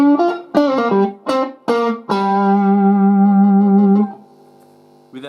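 Electric guitar plays a riff slowly through an effects unit with distortion: a few punchy chord stabs, then a long sustained chord ringing out before a quieter held tone, loud and close.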